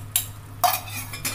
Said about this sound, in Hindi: अच्छे से चला लेना है